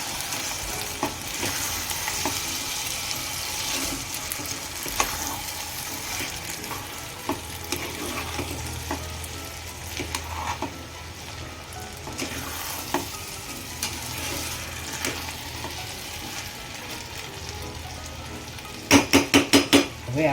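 Sorghum (juvar) upma sizzles and fries in a pan over a gas flame turned slow to medium, a steady close crackle with soft stirring scrapes, ending in a quick burst of spoon clinks against the pan.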